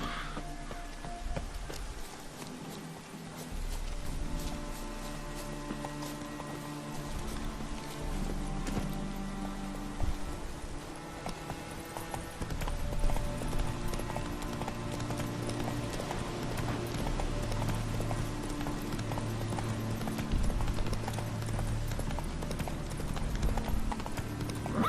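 Steady hoofbeats of Roach, the horse in The Witcher 3: Hearts of Stone, clip-clop continuously at a brisk pace under a constant bed of game music and ambience.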